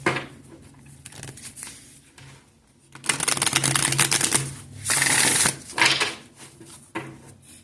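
Tarot cards are shuffled and drawn during a reading, giving bursts of riffling and flapping card noise, loud and close. Brief clatters and quieter handling sounds fall between the bursts, and no one talks.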